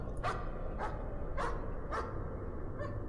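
A dog barks in the horror video game Layers of Fear, five separate sharp barks spaced about half a second apart, the last one fainter, over a low background rumble.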